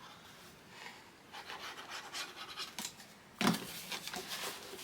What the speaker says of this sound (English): burnish those down